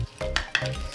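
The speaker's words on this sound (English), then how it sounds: "I gotta muddle these cucumbers, y'all." Cucumber slices and lime wedges are muddled in a glass for a cocktail, two quick pressing crunches with a clink between them, close and fairly quiet.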